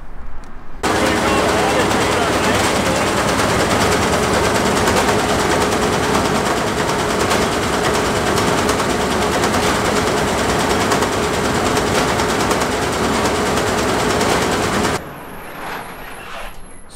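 A MacDon FD2 series header's knife drive runs wide open, giving a loud, steady mechanical clatter and hum that holds for about fourteen seconds before cutting off, leaving quieter background noise.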